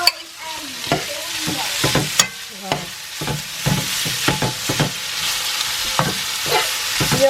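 Sausage sizzles in a pan while a utensil stirs and scrapes it in irregular clatters, a continuous frying hiss running underneath the close, sharp knocks, with no talking.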